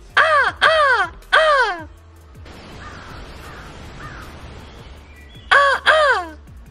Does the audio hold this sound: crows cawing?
yes